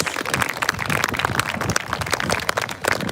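Dense, steady applause from a crowd gathered at a candlelight vigil for missing people, many hands clapping evenly throughout with no break.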